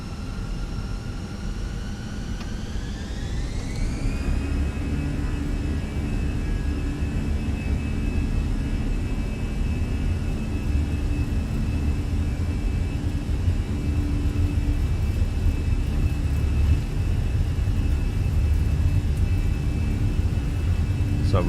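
Airbus A320 jet engines in a flight simulator spool up on the takeoff roll, a rising whine that levels into a steady, loud roar over a deep rumble, held continuously to the end.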